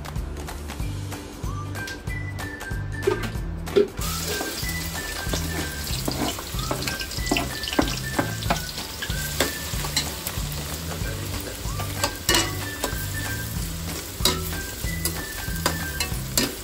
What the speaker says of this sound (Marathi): सगळ्यात आधी आपण कांदा लाल करायला घेऊ, बिर्याणीमध्ये टाकायचा।